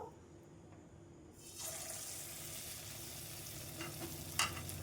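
Banana pitha batter, made with ripe bananas, slips into hot oil and sets off a steady, close sizzle that rises after a quiet start and keeps crackling evenly, with a brief sharper spatter near the end.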